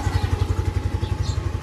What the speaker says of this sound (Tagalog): O paminawan ninyo andar sa makina, wala ni asop.